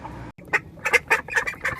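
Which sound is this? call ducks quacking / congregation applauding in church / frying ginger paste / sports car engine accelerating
call ducks quacking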